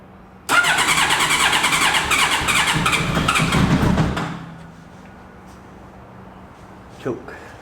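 A Honda CBR1100XX motorcycle engine, temporarily wired into a custom golf cart mini buggy, catches abruptly and roars loud and steady for about four seconds, then falls to a low, quiet idle with a brief knock near the end.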